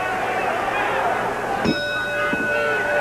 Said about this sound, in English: waiting now for that bell to ring to start this second fall